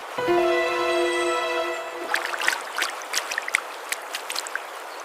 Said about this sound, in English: dips a tiny paw into the cold flowing water before stepping fully into the stream